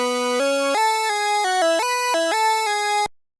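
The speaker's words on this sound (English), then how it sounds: "I started with a very basic lead that doesn't have any effects" A bare, dry synthesizer lead patch with no effects plays a short stepped melody of distinct held notes with a bright, buzzy harmonic tone, ending abruptly into silence after about three seconds.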